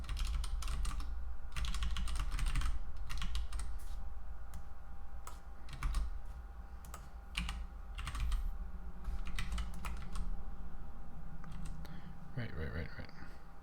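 Keys clatter in quick bursts on a computer keyboard while code is written in the Pico-8 environment, close and steady clicking with brief pauses, over a low background hum.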